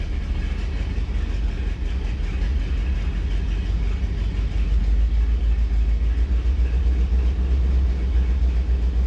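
An engine runs rough and skips at raised RPM, a steady, loud, low rumble that continues throughout with no talking.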